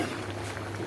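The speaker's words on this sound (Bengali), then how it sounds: "ঝোলটা আমার কেমন তরকারিটা টকবক করছে" An eggplant and koi fish curry boils in a pot, giving a continuous close bubbling and soft liquid patter over a low steady hum.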